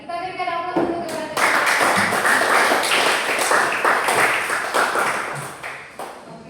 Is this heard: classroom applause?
yes